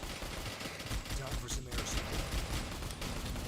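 Rapid, dense video game gunfire from the shooter Mad Devils rattles continuously in sustained bursts, loud and close, with a brief dip before the shooting resumes.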